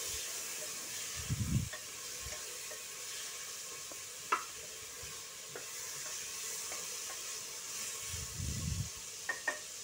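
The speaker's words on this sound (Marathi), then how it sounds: "टोमॅटो चांगले परतून घ्यायचे" Tomatoes are sautéed in a pan, a soft, even sizzle with occasional light clicks of a spoon and two brief low thumps, quiet and without any talking.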